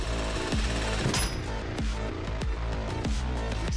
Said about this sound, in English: Drill's done!